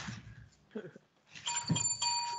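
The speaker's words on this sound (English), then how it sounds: "There's the bell." A bright bell rings out with sustained high tones over a low rumble of voices and room noise, ringing for about a second before fading slightly.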